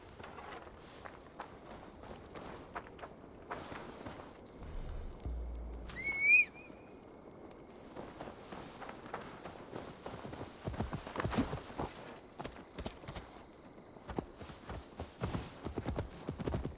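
In Assassin's Creed Valhalla, horse hooves clip-clop in a loose walking rhythm, moderately close, alongside a brief whinny and a few scattered game sounds midway, with no speech over them.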